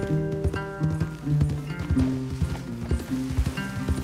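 Horses in the game Red Dead Redemption 2 clop along with irregular hoof strikes, moderately close, mixed with faint tack jingles and light game sounds.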